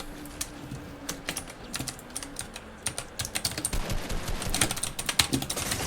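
Computer keyboard typing and key clicks during gaming, a rapid irregular patter of keystrokes that grows denser and louder toward the end, with no talking.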